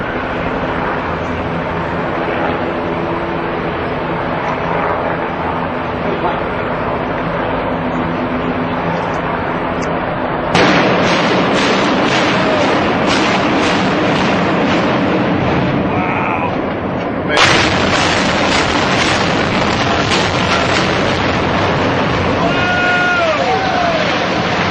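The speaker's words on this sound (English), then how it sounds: "I want you to see what a normal building demolition looks like, and I want you to hear what it sounds like too" A normal explosive building demolition: sustained low rumble, then two sudden loud blasts about seven seconds apart, each followed by heavy broadband roar that carries on through the rest.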